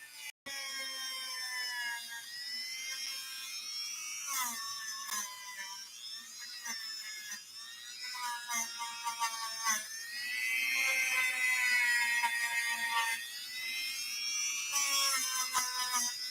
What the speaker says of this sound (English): you notice how I'm changing the angle of the Dremel so I can get underneath that lip of the connection